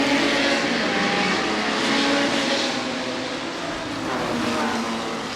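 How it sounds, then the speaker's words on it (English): Number 23 Lister Jaguar race car at the 2014 Goodwood Revival, a loud, continuous engine roar that swells and eases slightly as it races past, with no talk. "Lister Jaguar, winning the race."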